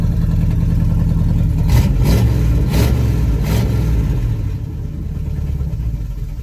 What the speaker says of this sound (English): Starts and revs great. try to hold RPM, it gets rough.